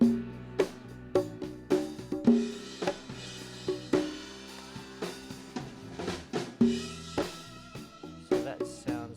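Congas and bongos in a studio mix hit in a busy rhythmic pattern, with sharp repeated strikes and resonant ringing tones, moderately quiet and without voices.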